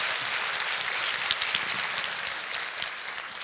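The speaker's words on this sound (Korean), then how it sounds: "우리 부부에게 여러분 박수 한번 좀 다시 좀 큰 박수로 좀 주세요" Sustained audience applause for a married couple being welcomed onto a lecture stage at a stop-smoking campaign talk, a dense, steady clapping from a sizeable crowd holding at an even level throughout.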